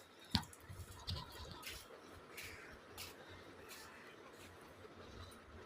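Water splashes and drips from a running tap while someone washes their face, wet squishy splatters close by with a couple of sharper drops early on, continuing steadily at low level.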